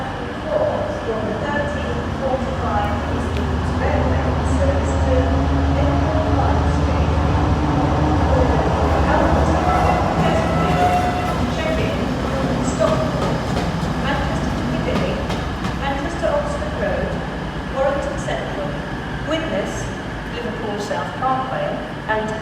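A Class 70 locomotive runs light through Nottingham station with a steady, loud, rumbling drone and faint rail clatter. Station announcements and a nearby voice are heard over the sound.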